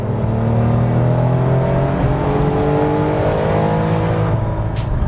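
A Porsche 930 911 Turbo engine revs hard with a loud, sustained, rising drone and whine, close and steady throughout, its pitch climbing as the revs build, with no voices over it.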